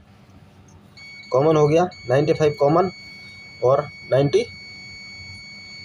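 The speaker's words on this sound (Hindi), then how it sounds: "ये देखिए, ये आपको बीप का आवाज़ सुनाई दे रहा है" A steady, faint electronic tone from a multimeter in continuity mode, probed across auxiliary contactor contacts, runs continuously beneath someone talking in short bursts.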